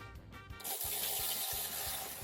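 Liquid pouring and splashing into a container, a steady wet rush after a brief clink, close and moderately loud.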